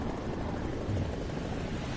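A helicopter in the War Thunder video game flies with a steady, dense rotor and engine roar that fills the whole moment at an even, loud level, with no voices heard.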